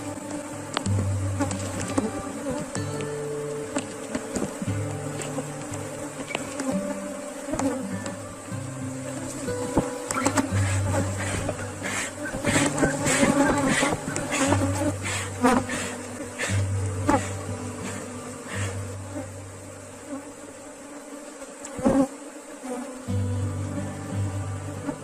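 Honeybee swarm buzzing around hives in an apiary, a dense continuous drone with individual bees passing close by, joined by a steady low engine-like hum and a few handling knocks.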